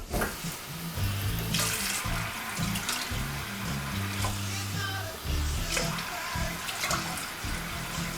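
Tap water runs steadily into a cooking pot in a home kitchen, filling it with a continuous splashing rush for several seconds, with a few brief interruptions in the flow.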